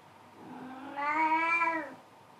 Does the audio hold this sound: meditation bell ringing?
no